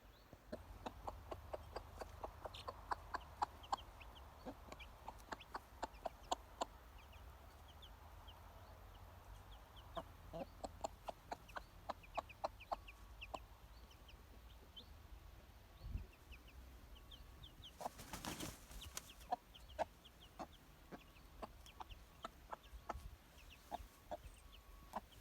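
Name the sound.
hen clucking after being let out of coop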